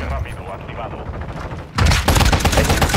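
Rapid bursts of gunfire in Call of Duty: Modern Warfare II erupt partway through, loud and dense, following a stretch of muffled game noise.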